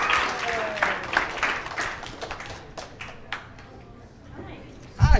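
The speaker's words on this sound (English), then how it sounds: "Y'all give them a round of applause." An audience at a Five Nights at Freddy's convention panel claps for the guests, scattered applause that thins out over several seconds, with voices mixed in and a louder bump at the end.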